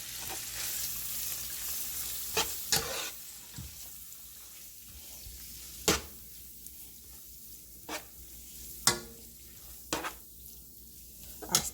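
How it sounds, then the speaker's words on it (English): Onions and green pepper frying in a pot for party jollof rice, with a steady soft sizzle broken by several sharp utensil knocks and scrapes at irregular intervals, close by and with no talking. "As my onions is getting done, I'm going to add my green pepper."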